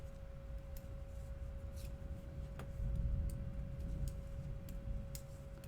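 Knitting needles click in a quick, light, irregular rhythm, faint and close, over a soft background hum with no speech.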